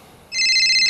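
A mobile phone starts ringing for an incoming call: a loud, close electronic ringtone with steady sustained tones that begins abruptly after a quiet moment and carries on alone.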